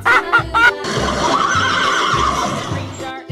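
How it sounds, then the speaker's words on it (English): Over a looping background beat, a horse lets out a single loud, drawn-out whinny that wavers and fades near the end, close and clear. "Horse."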